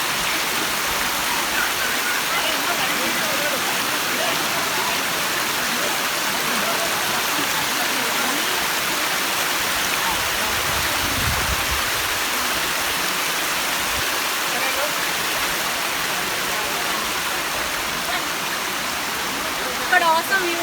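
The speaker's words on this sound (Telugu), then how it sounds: "వాటర్ ఫాల్స్ చూసారా, స్టెప్స్గా ఎంత బాగా పడుతుందో" The stepped waterfall in the Ananthagiri Hills near Vikarabad pours down in tiers, giving a steady, dense roar of rushing water that holds even throughout.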